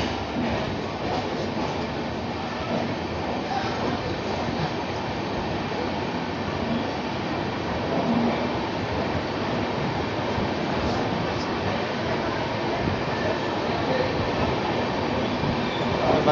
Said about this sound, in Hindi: बक्सर से अपने ट्रेन का डिपार्चर हो चुका है। ये ट्रेन अभी भी 10 मिनट की देरी से चल रही है।